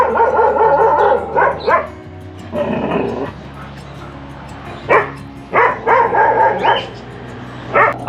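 A Pashmi hound, a hunting dog, barks loudly and close in repeated bursts with short pauses between them.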